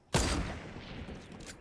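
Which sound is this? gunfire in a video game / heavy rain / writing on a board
gunfire in a video game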